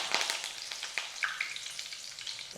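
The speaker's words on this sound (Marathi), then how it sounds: "कढीपत्ता मस्त तळला गेला आहे आवाज ऐकायला येत असेल ना" Curry leaves frying in hot oil on a lowered gas flame for boondi chivda, giving a dense, close crackling sizzle with sharp pops throughout, with no talking.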